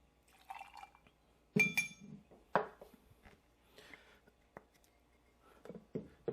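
Tequila poured into a glass for a beer and tequila mixed drink, heard as a few short splashing pours and light glassy clinks amid quiet handling sounds, close and soft.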